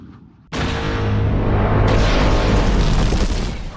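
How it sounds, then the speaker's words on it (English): Star Wars seismic charge dropped on incoming TIE fighters: a sudden loud blast after a brief quiet lead-in, swelling into a dense, sustained roaring explosion with a ringing tonal undertone that holds for several seconds. "Boba drops a seismic charge on the incoming TIE fighters, the same type of very unique sounding explosive"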